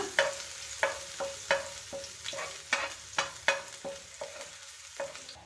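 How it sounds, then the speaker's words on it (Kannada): Garlic fries in a pan for onion Manchurian, with a soft sizzle under a dozen or so regular scraping stir strokes, close and clear, with no talking. "ಬೆಳ್ಳುಳ್ಳಿ ಸ್ವಲ್ಪ ಕಲರ್ ಚೇಂಜ್ ಆಗೋವರೆಗೂ ಫ್ರೈ ಮಾಡ್ಕೊಳ್ಳೋಣ"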